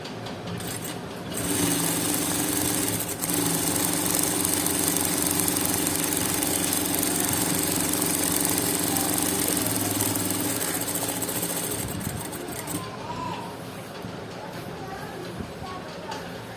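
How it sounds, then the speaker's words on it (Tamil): Sewing machine stitching a folded half-inch hem on a halter neck blouse, running steadily with a dense motorised whir for about ten seconds before slowing and stopping, with faint talk at the start and end. "இதை ஒரு 1/2 இன்ச்சு நம்ம விட்டதை மடித்து தைச்சிக்கிறேன்"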